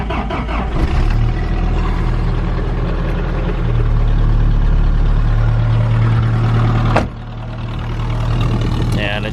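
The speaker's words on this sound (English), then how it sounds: "This is going to be a cold start right now, so you can see how she runs now." A 1985 Toyota 4Runner with a new low muffler starts cold and settles into a steady idle, loud and close, with a brief drop near the end before the engine note returns; someone talks over it.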